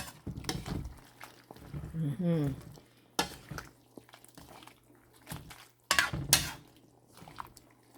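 Chicken soup with greens is stirred in a pot, with intermittent clanks and scraping strokes under a faint background hum, while a person talks over parts of it.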